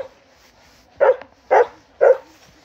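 A dog named Zoé at an agility event gives three sharp, loud barks spaced about half a second apart, close by, with quiet in between.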